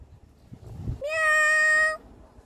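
Ruinzo, a cat, lets out one loud, drawn-out meow up close after a bit of quiet background rustle.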